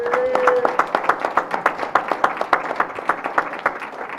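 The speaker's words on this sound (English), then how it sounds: "Everybody give Santa Claus a big round of applause" Audience applause for Santa Claus at a live event: a group of people claps in an irregular, quickening patter, with sharp individual hand claps standing out, and a brief tonal sound near the start.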